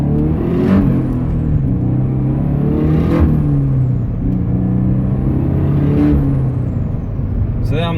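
Turbocharged Subaru BRZ/GT86 with a Garrett G25-660 turbo kit pulls hard through the gears on the street, the engine note climbing and dropping three times with each shift, loud and close from inside the car.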